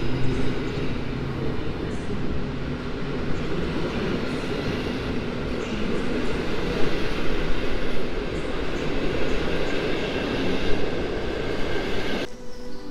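A steady, heavy rumble of a passenger train at Kraków Główny station runs continuously at moderate loudness, with a slight surge midway and a sudden cut near the end.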